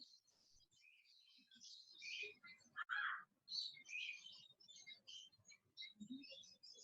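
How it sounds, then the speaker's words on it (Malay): Pet birds of several expensive breeds kept behind a house, chirping and tweeting in quick bright bursts at moderate distance, fairly steady through the clip, with faint low sounds beneath. "Belakang rumah tu dia bela banyak jenis burung yang mahal tu."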